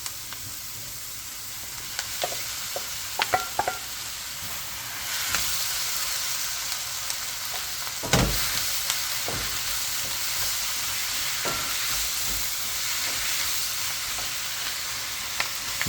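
Beef and vegetables stir-fry in a hot pan over high heat, a steady loud sizzle with intermittent scraping and tossing clicks, one sharp clatter midway, no voices.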